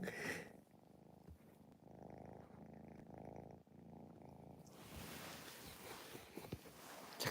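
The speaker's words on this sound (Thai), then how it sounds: "บริติชช็อตแฮร์ครับ" A British Shorthair cat purring steadily up close, a continuous low rumbling drone with a brief louder rustle near the start and faint handling noises toward the end.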